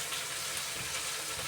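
Spice paste frying in oil with bay leaves and turmeric powder, for a rohu fish curry: a steady, even sizzle and crackle close by, with no talking.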